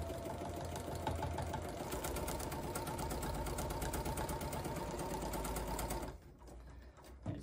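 A domestic sewing machine stitches along marked lines on a Poppins bag, running in a fast, even mechanical rattle for about six seconds before stopping abruptly.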